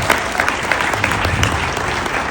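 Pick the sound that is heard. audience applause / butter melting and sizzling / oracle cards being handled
audience applause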